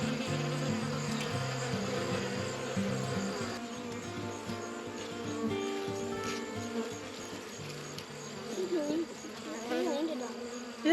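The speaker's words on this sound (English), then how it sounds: "These bees are not going to be angry." Bees buzzing close around a melting melon, a dense, steady drone of many overlapping wingbeats whose pitches drift and waver throughout.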